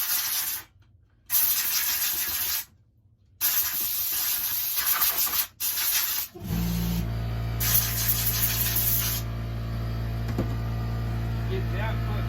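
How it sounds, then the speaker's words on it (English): Compressed air blasts out the air filter of a Stihl MS 441 chainsaw in several loud, close hissing bursts separated by short pauses. A steady low hum then takes over. "I just blow the air filter out"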